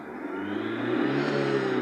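An Opel Astra F petrol engine runs loud and close, its steady roar climbing slightly in pitch as the throttle is pressed.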